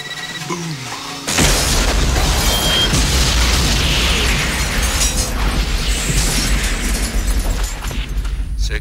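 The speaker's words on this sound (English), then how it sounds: "Impact with high order detonation" A high-order detonation on impact: after a moment of quiet, a sudden massive blast hits and rolls on as a loud, sustained roar of rumbling debris and crackle.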